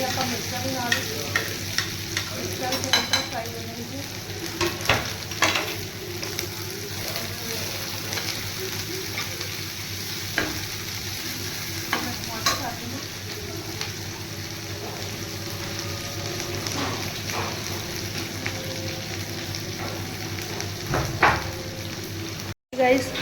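Chopped onions frying until brown give a continuous crackling sizzle close by, with intermittent stirring knocks and scrapes against the pan and a faint voice now and then.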